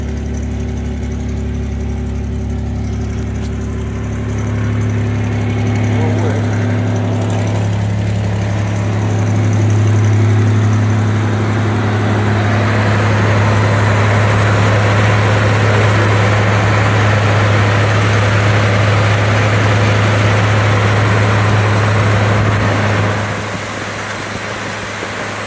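A 1988 Toyota 4Runner engine idles with an exhaust leak, a loud steady low drone with a rough rasp that rises slightly midway and settles near the end.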